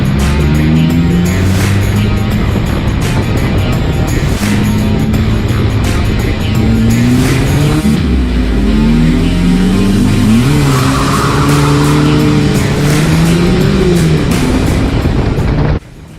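Race cars roar around Cowdenbeath Racewall in the first heat of the night on a dry oval, engines blaring loud and close with shifting pitch and tyres squealing and skidding throughout.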